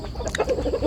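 A chicken clucks in a few short, soft bursts at moderate distance, with a low background murmur and no clear talk.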